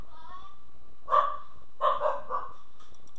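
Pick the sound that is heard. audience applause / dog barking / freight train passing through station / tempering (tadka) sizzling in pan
dog barking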